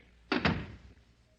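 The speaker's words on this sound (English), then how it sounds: "Close the door." A door shuts with a solid, brief double thunk close by in an old radio drama, followed by quiet room tone.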